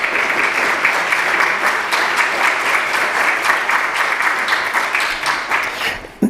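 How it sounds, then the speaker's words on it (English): A congregation at an annual church meeting gives a sustained round of applause, loud and even clapping from many hands that stops abruptly at the end. "I would just ask you to offer a grateful hand of applause."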